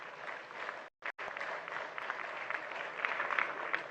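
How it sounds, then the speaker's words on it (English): Sustained applause from a large audience at a formal security event in Abuja, dense and steady with a brief dropout near the start, swelling slightly toward the end. "Let's give him another Abuja round of applause."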